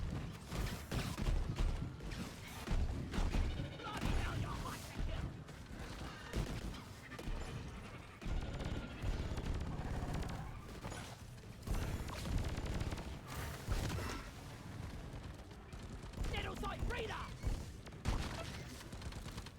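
Scout firing taser Firebolts with the Conductive Thermals overclock in Deep Rock Galactic, a dense, continuous barrage of crackling electric bursts and mechanical clatter layered over busy in-game noise for the whole stretch.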